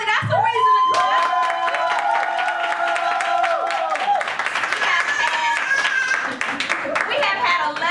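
Audience at a gospel back-to-school rally claps and cheers loudly and steadily throughout, with sustained tonal whoops and voices riding over the dense applause.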